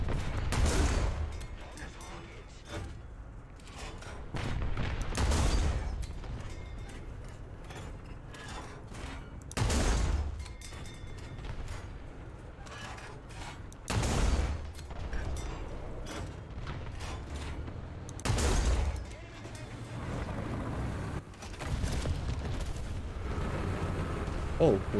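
Video game gunfire and explosions: repeated blasts and bursts of shooting recur every few seconds at close range, with in-game voices talking between and over them.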